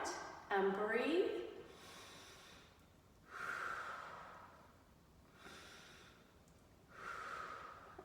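Slow, deep breaths during a seated chair-based stretching cool-down for the upper body, with several long inhales and exhales at an even rhythm. The breaths are moderately close and soft, and one sharper snort-like intake comes near the start.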